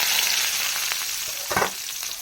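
Loud, steady sizzling of finely chopped small onions frying in hot oil with popped mustard seeds, with a brief burst of crackling partway through.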